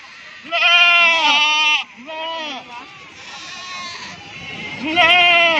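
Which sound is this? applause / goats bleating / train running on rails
goats bleating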